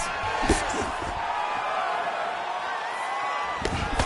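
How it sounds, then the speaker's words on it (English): A video game crowd in UFC 4 cheers after a simulated round of a mixed martial arts bout, a continuous broad roar with a few louder bursts, heard alongside commentator speech. "So the crowd voicing its appreciation after that round."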